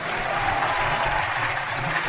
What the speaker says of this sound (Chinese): 掌声有请这一对